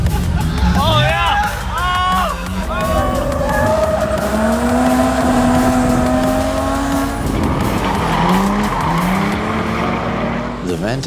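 Drift cars at the Underground SP car event in Brazil scream and squeal through slides, engines revving in long rising and falling sweeps over a lively crowd murmur, close and loud throughout.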